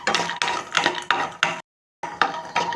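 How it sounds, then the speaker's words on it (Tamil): Almonds and cashews roasting in ghee in a pan while being stirred, a rhythmic series of scraping, clinking strokes of the spoon against the metal, close and clear, with one brief silent break. "இப்போ பாதாமும் முந்திரியும் வறுபட்டுருச்சு."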